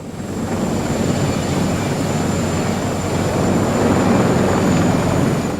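Military helicopters aboard the amphibious assault ship USS Okinawa produce a steady, dense roar of rotors and engines with a thin high whine running throughout.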